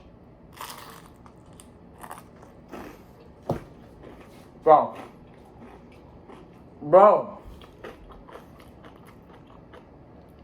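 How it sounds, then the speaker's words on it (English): Crunchy homemade bruschetta bitten twice, each bite a loud, sharp crackling crunch followed by chewing, with a person speaking briefly before and between the bites. "Listen to this crunch."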